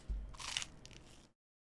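A close, crisp crunch as teeth bite into a sandwich, one sharp crackling burst that fades over about a second before cutting off, with no talk.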